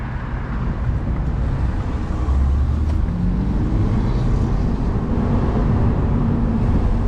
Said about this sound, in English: take it around these back roads, and let's see how this vehicle's overall stability feels whenever you're driving it.